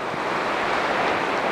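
Sea waves wash onto the beach at Pevensey Bay, a continuous broad rushing surf with slight swells in intensity, fairly near, mixed with some wind noise and no speech.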